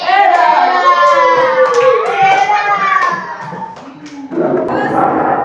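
In a sixth-grade classroom at an Indonesian elementary school, children's voices chant together, then a burst of clapping for a classmate named Zainul breaks out near the end, close and lively.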